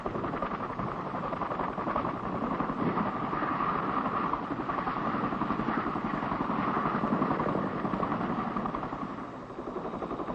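A CH-47 Chinook twin-turbine, tandem-rotor helicopter's steady engine drone with a fast rotor chop, continuous and fairly close, with wind rumbling throughout.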